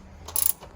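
A ratchet wrench works bolts loose on a 2021 Yamaha SX190 boat, giving a short burst of quick clicking ratchet strokes, close by and moderately loud, with no one talking.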